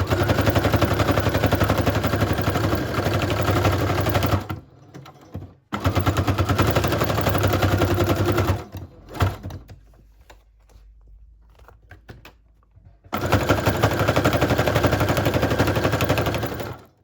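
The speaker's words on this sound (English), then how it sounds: "I'm just sewing all the way around the border." A sewing machine stitches around the border of a handmade paper Halloween junk journal. Fast, steady mechanical stitching comes in three loud, close bursts, separated by short pauses and a longer quiet gap with faint handling.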